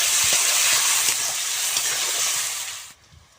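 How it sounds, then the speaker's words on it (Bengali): Potatoes fry in a pan with salt and turmeric powder, making a loud, bright, hissing sizzle with light stirring scrapes, which drops away abruptly near the end. "লবণ, হলুদ গুঁড়ো, আলুগুলো সুন্দর করে একটু ভেজে নেব।"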